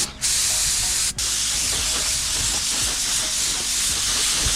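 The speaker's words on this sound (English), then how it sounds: "spray your tinted clear coat" A spray gun applying tinted black clear coat over chrome hisses continuously and close up. The steady spray breaks off briefly twice near the start, then runs without pause.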